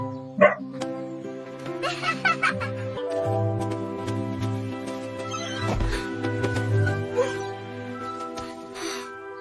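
An excited dog barks several times in short bursts alongside clucking fowl, with a cartoonish background tone and voices talking throughout.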